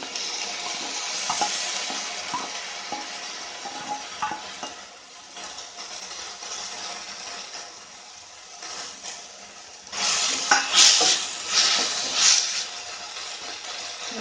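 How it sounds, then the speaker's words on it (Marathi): Onions and tomatoes fry in a pan for Goan mutton sukka, a steady sizzle with spoon stirring and scraping, louder bursts of sizzling toward the end. "कांदो आणि टोमॅटो तळसून जाला।"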